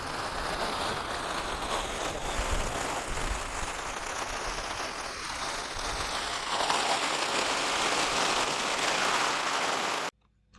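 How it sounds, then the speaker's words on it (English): A heavy spring rainstorm soaks a garden, a dense, continuous hiss of rain striking leaves and surfaces, loud and steady with a brief swell before cutting off abruptly near the end. "the storms came in and rained us out"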